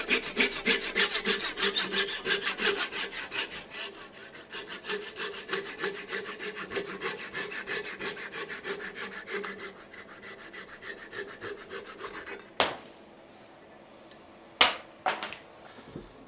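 A hand tool shaves and rasps wood while an axe handle is fitted, giving steady rhythmic scraping strokes for several seconds, then a few sharp knocks and scrapes, with no talking.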